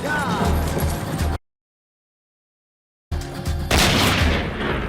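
Gunfire from the 2007 western 3:10 to Yuma, heard as a loud rattling volley from a film soundtrack, cut by about two seconds of dead silence before more shots and booming resume.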